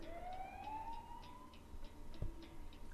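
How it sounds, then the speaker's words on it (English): Ambulance siren from a kids' vehicle puzzle video game, a rising then steady electronic wail with faint repeating ticks, playing alone at moderate level with no talking. "Ambulance. Ambulance."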